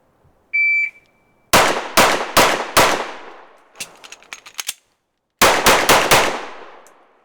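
Pistol shots ring out in a reload drill with an S&W Carry Comp or Walther PDP: a timer beep, four sharp close shots, a metallic magazine change, then four more quick shots, each trailing off with echo.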